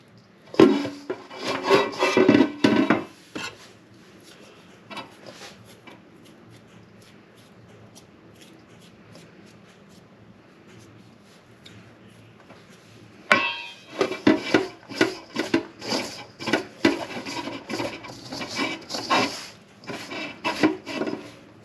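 A thin metal spatula or knife works through wet scone dough, giving close, rhythmic scraping and rubbing strokes against the bowl in two bursts with a quieter stretch between.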